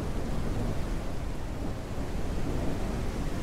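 Rain and thunder from the Ranch Simulator video game form a steady, loud wash of downpour with a deep continuous rumble that holds unbroken throughout.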